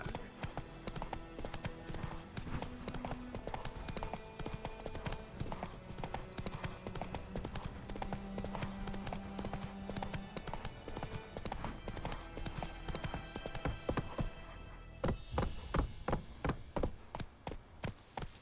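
Horse galloping in the video game Witcher 3, rhythmic rapid hoofbeats clip-clopping steadily over ground, growing sharper and louder toward the end, with game ambience underneath and no speech.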